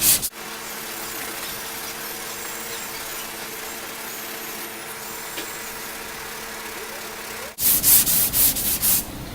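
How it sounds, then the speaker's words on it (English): Auto body filler sanded by hand with 150 grit sandpaper, a steady close rubbing rasp that runs unbroken for several seconds before a burst of louder, choppier strokes near the end. "now I'm going to start sanding with the 150"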